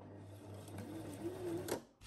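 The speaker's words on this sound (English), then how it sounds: "Maybe I'll just go back 1 or 2 stitches." Sewing machine stitching paper for a junk journal runs in a short, steady mechanical whir of a few stitches, close and fairly quiet, then stops.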